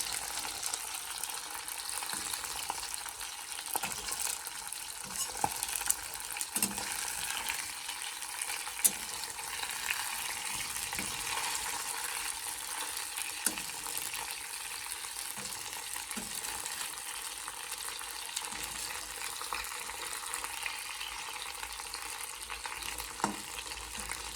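Fresh pond fish fries in hot oil in a wok, giving a continuous sizzle and crackle with small pops and stirring clicks. The sound stays fairly close and holds steady throughout.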